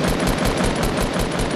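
Rapid gunshots in a Fortnite Battle Royale duos match, a loud, steady volley of evenly spaced shots filling the whole moment with no talk over it.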